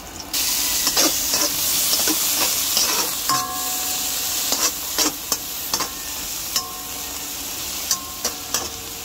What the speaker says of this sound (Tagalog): gisa-gisa na tayo para sa ating ulam mamaya